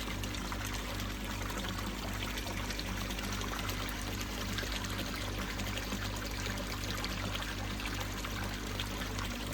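Return water from a garden pond running down a channel makes a steady, continuous trickling and pouring rush, even and unbroken throughout, with a faint low hum underneath and no voices.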